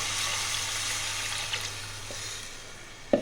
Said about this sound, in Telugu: ఇప్పుడు మనం ముందుగా చింతపండు నానబెట్టుకున్న రసం పోసుకుందాము.